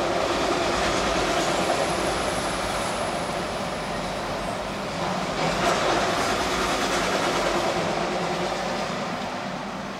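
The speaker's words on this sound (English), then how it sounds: "This train is huge." A long CSX freight train rumbles past close by, a steady broadband roar of rolling cars with faint wheel clatter and a thin high squeal throughout.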